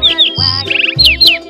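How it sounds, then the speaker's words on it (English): A sparrow chirps in a quick run of sharp, bright tweets and short trills, close and loud, alone with no voices. "Sparrow."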